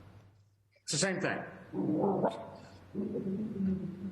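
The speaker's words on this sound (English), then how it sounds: "Sorry about the dog." A dog barks and yips in short bursts during an online conservation commission meeting, fairly close and loud, mixed with a participant's speech.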